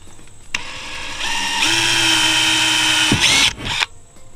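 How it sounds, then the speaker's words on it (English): A power drill whirs up to a steady high whine for about three seconds, drilling holes for a Knarr steering kit installation, then winds down with a brief mechanical rattle, close by. "we're just going to pop 2 holes right here where we marked"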